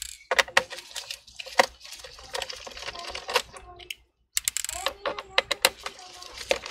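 Small screws are taken out of an HP Chromebook, giving sharp, close clicks and light metallic taps in an uneven sequence, with a short silent gap midway and a voice briefly present.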